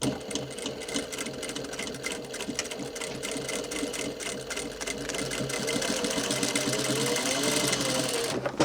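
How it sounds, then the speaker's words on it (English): A sewing machine runs a continuous quarter-inch top stitch along the top hem of a dungarees chest pocket, a steady close mechanical whir and rapid needle chatter that builds slightly louder before stopping. "We're going to run a little 1/4 top stitch along the top hem of the chest pocket."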